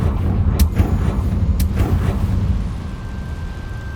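A Confringo explosive spell blast in Hogwarts Legacy, a loud booming burst with sharp crackling impacts followed by a rumbling decay.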